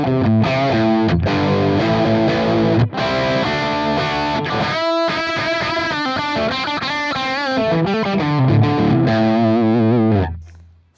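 Distorted electric guitar played through a Valeton GP-50 using a NAM amp profile, dense rhythm chords with chorus-like shimmer, loud and continuous, a brief gap midway, fading out at the end with no talk.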